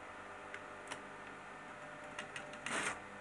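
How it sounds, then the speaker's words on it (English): A sewing machine top stitching under the arm of a waist jacket made from fabric scraps, heard as faint, quiet mechanical ticking and clicking with a brief louder whir near the end. "I'm going to top stitch it."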